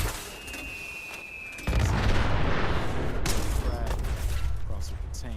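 A weapon in Fallout 4 fires with a sudden loud blast that cuts in partway through and trails into a rumbling, crackling burst, with a voice speaking underneath.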